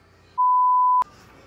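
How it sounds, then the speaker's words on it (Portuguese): A single steady electronic beep from the video game Free Fire, lasting about half a second and ending in a sharp click, loud and close over quiet background hiss. "esse som de Free Fire no meio do meu vídeo"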